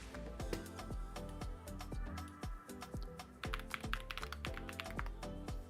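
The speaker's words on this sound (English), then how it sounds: "so now let's do a typing test" Typing test on a Corsair MAKR 75 mechanical keyboard: a steady run of crisp, close key clacks with some heavier thocks, irregular but continuous rhythm, no voices.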